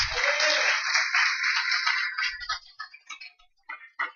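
A prayer group congregation claps after a reading, a burst of dense clapping that thins out into scattered individual claps and stops, fairly close and heard on its own.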